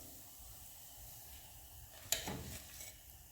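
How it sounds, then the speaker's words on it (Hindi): Sandwiches frying in hot oil make a low, steady sizzle, with a sharp crackling flare about two-thirds through that then settles back into a soft hiss. "इसी तरह मैं सारे सैंडविच फ्राई कर रही हूँ।"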